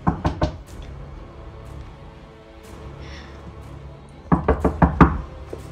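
Knocking on a door in a house: a quick burst of three loud raps, a quiet pause with faint background noise, then a longer run of about six sharp knocks, close and prominent.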